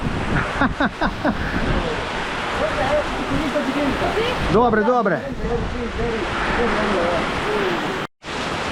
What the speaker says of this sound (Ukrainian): Оце так злива.